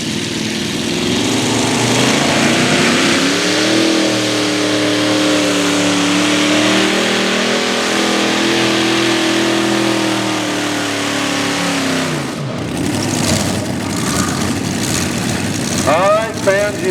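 A pulling tractor roars at full throttle during a truck and tractor pull, the engines loud and sustained with rising and falling pitch, cutting off abruptly before an announcer's voice is heard over the crowd.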